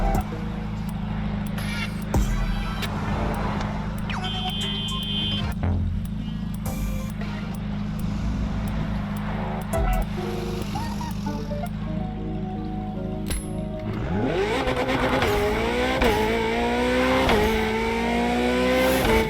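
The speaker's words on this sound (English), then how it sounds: "This was La Ferrari, the fifth and ultimate Ferrari supercar." A LaFerrari supercar in The Crew Motorfest, its engine holding a steady drone before revving hard through rising gear pulls with tire squeal, loud and close, with no talk over it.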